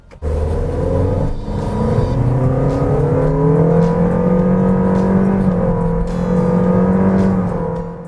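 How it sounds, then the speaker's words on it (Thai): A Toyota Yaris Sport Premium with the Flash II package and an electric throttle box accelerates from a standstill to 60 km/h, its engine note loud and close, rising steadily in pitch through the gears with no voices over it. "อัตราเร่งในช่วงเร่งออกตัว 0ถึง 60กิโลเมตรต่อชั่วโมง"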